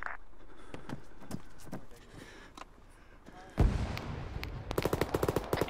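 Artillery fire in the Arma military video game booms and crackles, with a heavy blast followed by a fast run of sharp, close shots; muffled voices speak underneath.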